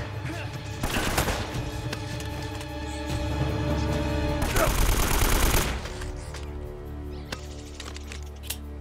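Gunfire in Uncharted: Drake's Fortune during a jet ski sequence, bursts of rapid shots in two loud clusters over a droning engine, with someone speaking at moments.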